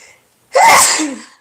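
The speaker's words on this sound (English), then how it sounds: "I knew that was going to be a violent sneeze." A single explosive sneeze, loud and close, bursting out suddenly after near silence and trailing off with a breathy tail.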